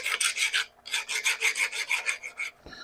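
Rasping strokes of a file deburring a metal part turned on a vintage lathe, about a dozen steady back-and-forth scrapes in an even rhythm, close and clear with no talk.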